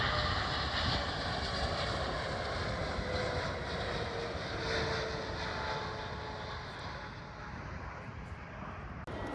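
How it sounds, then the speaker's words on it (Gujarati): An airplane passes overhead on arrival, a steady moderate jet engine roar with a faint whine that eases slightly toward the end, no talk over it. "જો આ પ્લેન આવ્યું આપણે જેની વેઇટ કરતા હતા"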